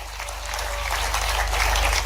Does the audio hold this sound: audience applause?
yes